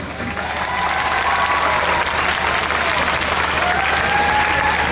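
A live show crowd bursts into loud, sustained applause, dense and continuous for the whole stretch, with faint cheers and whistles inside the clapping.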